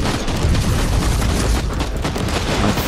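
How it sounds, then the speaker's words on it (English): A grenade explosion in the Warhammer 40,000: Inquisitor video game, a loud sustained blast with rumbling debris and crackle filling the whole stretch, no talk over it. "That was a nasty grenade there"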